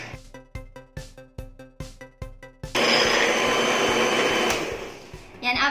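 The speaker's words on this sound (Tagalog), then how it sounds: "Then, after that, i-blend na natin ito." A blender whirs with a dense, loud roar as it mixes condensed and evaporated milk for homemade cookies and cream ice cream, preceded by a quick series of rhythmic clicks and tapering off near the end.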